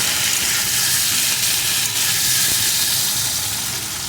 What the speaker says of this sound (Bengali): এখন আলুগুলো এইভাবে নাড়িয়ে নাড়িয়ে সুন্দরভাবে প্রথমে ভেজে নেব।